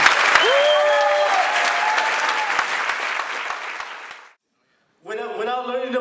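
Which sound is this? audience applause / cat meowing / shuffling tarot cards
audience applause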